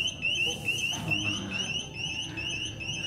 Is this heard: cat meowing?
no